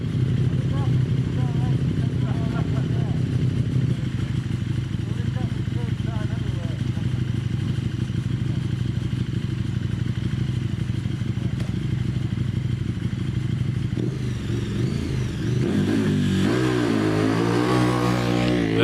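A road-going KTM motorcycle races up the Prescott hillclimb course, its engine revving hard and close, then rising in pitch as it accelerates away, heard under continuous commentary.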